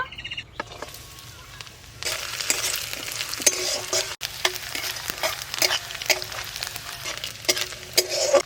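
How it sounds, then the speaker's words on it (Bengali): Grated coconut frying in hot oil for chana dal: after a quieter start, a loud, close sizzle bursts in and continues with crackling pops to the end. "তেল গরম হয়ে গেছে, নারকেল কুচিগুলো একটু হালকা করে ভেজে নেব।"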